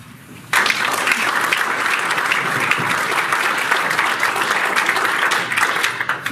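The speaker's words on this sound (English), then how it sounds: "that last statement really needs a big cheer from everybody" Audience at a mining alliance meeting bursts into loud, sustained applause with cheering; the clapping starts abruptly after a brief quiet moment and continues densely to the end.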